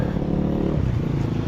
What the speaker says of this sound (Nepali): चल्दैछ मेरो बाइक